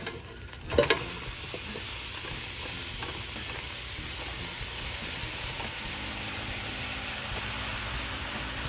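Tomato sauce goes into a pot of strained ground meat for deep dish pizza sauce, giving a soft sizzle and stirring hiss after a brief clatter, steady and close with no talking.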